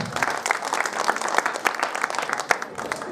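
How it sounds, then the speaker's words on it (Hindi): A village crowd at an outdoor gathering in Kudgal applauds loudly and steadily, a dense wash of many hands clapping close by with no speech. "तालियों में बिल्कुल कंजूसी न करें, क्योंकि यही हमारे कुड़गल गांव का जोश दिखाएगी। तो जोरदार तालियां बजाएं।"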